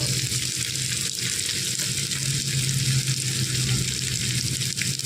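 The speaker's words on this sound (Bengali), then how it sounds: "আলুগুলো হালকা লাল করে নাড়া হয়ে গেল" Potatoes frying in hot oil in a pan, a steady close sizzle with light stirring scrapes running throughout, no talk.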